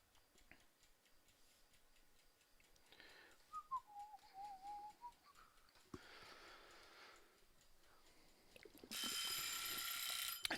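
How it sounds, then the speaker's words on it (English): A kitchen-style timer alarm goes off loudly near the end, a dense, harsh steady ringing that follows a stretch of whistling and quiet ticking during a drawing session. "timer went off here"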